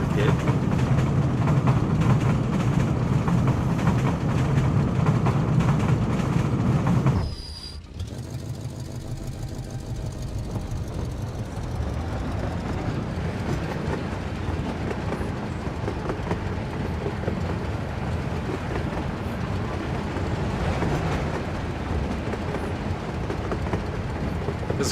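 Train rolling along rails in the Workers and Resources city-building game, a steady rumbling run with rhythmic clatter that drops off sharply partway through and continues quieter, with some speech mixed in.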